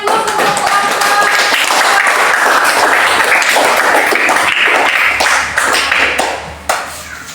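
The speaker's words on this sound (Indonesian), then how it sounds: "kasih aplaus untuk teman-teman" Classmates applaud in a school classroom, a steady, dense burst of clapping with sharp taps that holds loud and close for several seconds before thinning out at the end.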